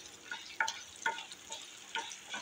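Cumin, urad dal and coriander seeds fry in a pan with a soft, low sizzle, broken by a few sharp scraping clicks as they are stirred, quiet and close, with no speech.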